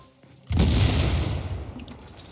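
A sudden loud burst of gunfire erupts after a quiet moment in the video game Tom Clancy's The Division, a dense booming volley that slowly decays with lingering rumble, no talking.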